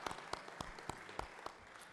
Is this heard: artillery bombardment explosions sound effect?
no